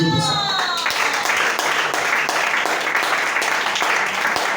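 A church congregation breaks into sustained applause and clapping, loud and dense throughout, with a voice speaking briefly at the start.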